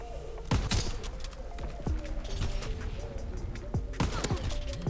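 Gunfire in a sniper free-for-all video game: sharp shots and thuds crack out repeatedly over a busy game soundscape, with clusters near the start and again toward the end.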